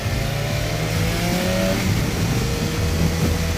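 A BMW S1000XR sport-touring motorcycle's engine drones steadily at close range, its pitch wavering and climbing slightly as revs rise from a standstill, with continuous road and wind noise underneath and no talking.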